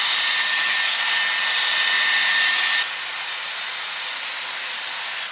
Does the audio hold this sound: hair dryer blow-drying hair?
yes